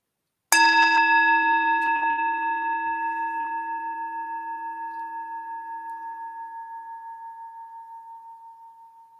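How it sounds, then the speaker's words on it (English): A single meditation bell is struck once, ringing out clear and close, then its pure tone fades slowly over about eight seconds of otherwise silent space. "When you hear the next bell, use this bell to draw some few deep breaths in"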